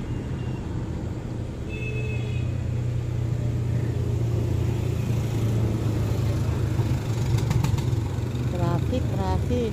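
Road traffic outside a polling place: a steady low engine rumble of idling and passing vehicles throughout, with voices talking faintly underneath.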